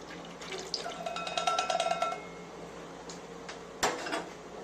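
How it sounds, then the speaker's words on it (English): Sugar water poured into lemonade in a home kitchen, a bright liquid trickle with a rising ringing tone for about two seconds, then a few soft container knocks and a louder clunk near the end. "now we're just gonna pour in our sugar water."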